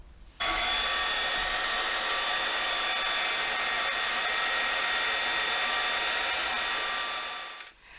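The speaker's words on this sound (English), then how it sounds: "I'm going to melt this powder with my Wow heat tool" A Wow embossing heat tool melts embossing powder on a card sentiment, blowing a steady, loud whooshing hiss with a faint whine that runs alone for about seven seconds before cutting off.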